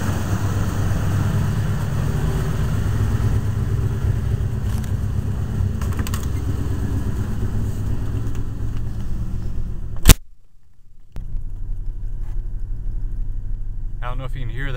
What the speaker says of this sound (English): I don't know if you can hear that, but the idle's actually gone back up.